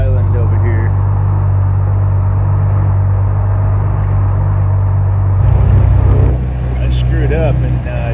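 A Macgregor 26X boat idling through Crab Island near Destin, its steady low motor rumble filling the scene, close and loud, with voices speaking over it and the engine note shifting near the end.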